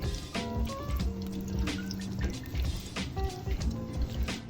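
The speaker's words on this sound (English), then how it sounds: "Transfer the butter to another bowl to stop the cooking process." Melted unsalted butter pours from a saucepan into another bowl, a soft liquid trickle with faint dripping and light clinks, fairly quiet and close, with no talk.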